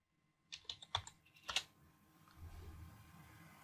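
A short burst of keystrokes on a computer keyboard while working in a server terminal, several crisp close clicks followed by quiet room noise.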